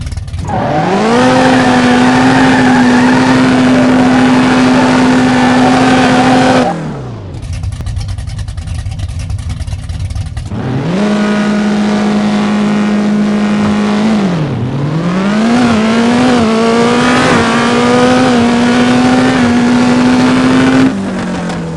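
Drag car in the No Limit Drag Racing 2.0 video game, tuned all-motor, launching at high RPM and screaming up through the gears with loud revving and shift drops across several runs, no talk.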